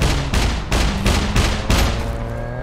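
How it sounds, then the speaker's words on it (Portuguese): Gunfire in the survival video game SCUM: five or six sharp, loud shots in an uneven rhythm, each with a booming tail. The last shot rings out and fades, with no talk over it. "Tem tiro ali pra minha esquerda."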